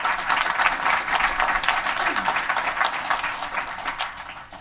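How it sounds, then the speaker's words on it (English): A conference audience at a Go programming meetup gives a full round of applause, dense steady clapping filling the room from start to finish and easing off slightly near the end. "So round of applause for Women Who Go."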